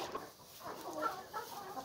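Chickens cluck softly inside a chicken house, a steady low murmur of fowl sounds at moderate distance with no talk.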